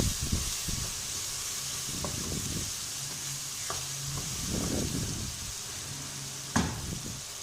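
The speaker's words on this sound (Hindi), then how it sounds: "इसको अच्छी तरह मिक्स कर लेंगे और टमाटर गलने तक हम इसको फ्राई करेंगे, पकाएंगे" Tomatoes with turmeric fry in a pan with a steady sizzle, stirred with intermittent scraping and clinks from a spoon, close and alone.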